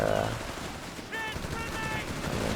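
Machine gun fire from the Company of Heroes 3 strategy game, heard as short rattling bursts amid battle noise, moderately loud and continuous through the brief moment.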